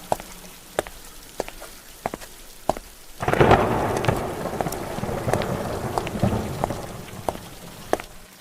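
Heavy rain pours down with a steady, dense hiss. Before it, sharp isolated drips tap against a quieter background; then a loud downpour swells in and continues, with individual drops still snapping through.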